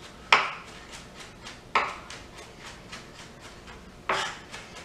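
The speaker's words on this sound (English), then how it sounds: "we've got our garlic nice and minced up" Knife strikes on a cutting board while mincing garlic for an Italian tomato sauce, three sharp isolated chops spaced irregularly, with softer scraping between them and no talk.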